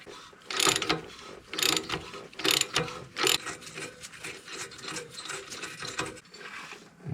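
Ratchet wrench loosening a bolt on a 1970 FJ40 Land Cruiser during clutch replacement prep, clicking in repeated close, loud bursts of rapid pawl ticks with brief pauses between strokes, no talking.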